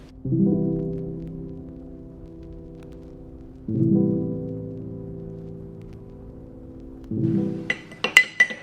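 A spoon stirs a morning drink in a glass, close and alone: three resonant ringing tones that each fade slowly, followed by a quick flurry of light clinks at the end.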